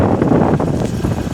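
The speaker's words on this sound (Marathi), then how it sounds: "वारा आहे" Wind blows steadily across the microphone outdoors, a constant loud rumbling gust that stays close and unbroken, with no voices.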